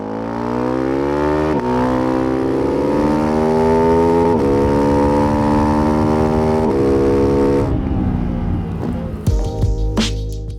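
A Ducati single-cylinder road motorcycle engine rated at 85 horsepower runs close and loud, its steady note stepping up in pitch a few times before it settles and fades out near the end, with no talking.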